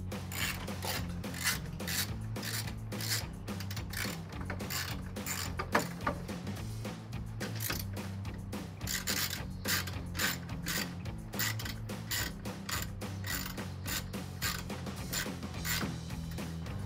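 Rapid ratchet clicking while loosening grille bolts on a 2007-2013 GMC Sierra 1500, a steady close-up run of metallic pawl ticks over about seventeen seconds with no talking.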